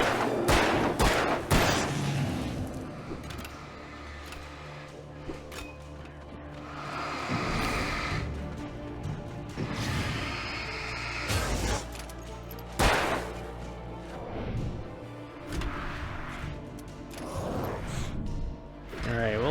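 Repeated gunshots in the video game Alan Wake, sharp loud bursts coming at irregular intervals with some rapid clusters, mixed with crashing impacts and intermittent speech between shots.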